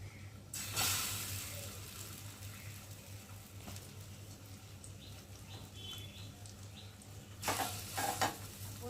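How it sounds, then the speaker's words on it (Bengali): Changra fish frying in oil in a wok makes a quiet, steady sizzle over a low background hum, with a few louder crackling bursts near the start and end. "এখন কড়ার মধ্যে তেল দেব দিয়ে একে একে আবার করে ভেজে নেবো"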